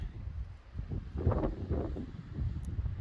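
Wind blowing outdoors in snow near a shed and sawmill, gusty low rumbling buffeting the microphone, rising and falling through the moment without any voices.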